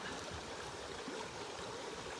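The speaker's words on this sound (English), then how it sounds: "To me, the sound of water, it's super relaxing and I love it." A stream runs in a steady, soft rush of flowing water near Lekunberri, faint and continuous with a slight gurgle and no voices.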